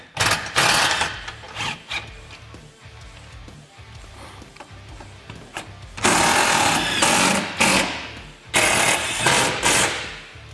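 Power driver sinking a self-tapping screw into a Can-Am Defender full skid plate, loud buzzing whirrs in short bursts separated by pauses, close up with rattling bits.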